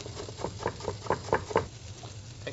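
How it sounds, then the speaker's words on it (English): Knife chopping fresh cilantro on a cutting board while making salsa with bell pepper and salt, a quick run of close, rhythmic taps that builds in the middle and then thins out. "Chopping the cilantro up."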